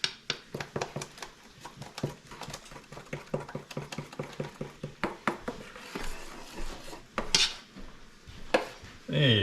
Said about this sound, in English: Let me break down a little more of the lumps.